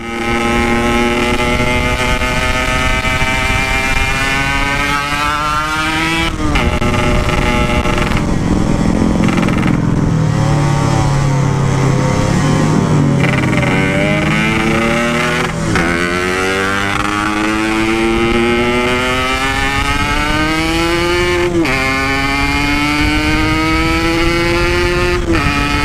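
A Yamaha RX-King two-stroke motorcycle engine is revved hard and repeatedly, loud and close, climbing and dropping in pitch in long surging pulls with brief falls between, alone with no talk.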